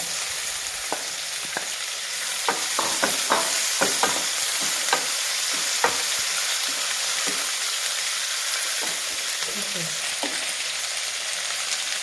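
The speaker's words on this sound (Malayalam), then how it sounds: "കോവയ്ക്ക ചേർത്ത് കൊടുക്കുകയാണ്" Ivy gourd (kovakka) tipped into a pan and fried, a steady sizzle broken by a cluster of sharp clinks and scraping stirs early on, then settling into continuous close frying with no speech.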